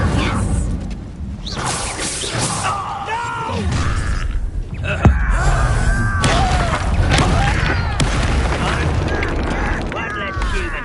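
An incendiary spell goes off during a Hogwarts Legacy duel, giving a sharp crash and whoosh midway through amid clattering and creaking combat effects, with spoken voices throughout.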